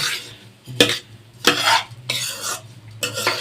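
A utensil scrapes and stirs food in a cooking pot over mustard-oil heat, with several rough, sizzling strokes at uneven intervals close by and no talk.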